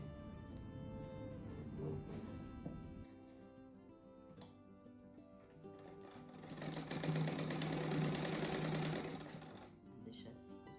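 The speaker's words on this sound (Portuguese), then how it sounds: "Agora eu vou costurar aqui no meio." Sewing machine stitching down the middle of a colorful patchwork star rug, a steady mechanical whir that swells louder for a few seconds and then eases off, with a voice speaking softly over it.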